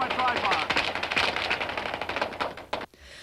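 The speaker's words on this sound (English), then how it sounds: "The ATF had plenty of automatic weapon fire." Bursts of automatic weapon fire from ATF agents, rapid close-spaced cracks rattling on for about three seconds before cutting out, with speech mixed in.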